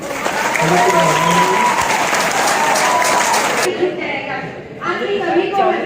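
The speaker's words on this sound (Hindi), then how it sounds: "विद्यार्थी लोग ताली बजा सकते हैं।" Students clap loudly and continuously at a retirement ceremony, a dense sustained applause that drops off sharply near the end as crowd noise lingers.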